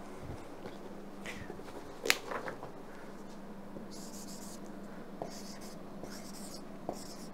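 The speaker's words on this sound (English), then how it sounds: "So let me write it down." Pen or pencil scratches across paper in quiet bursts, soft scribbling strokes with a few light taps, close and faint with no talking.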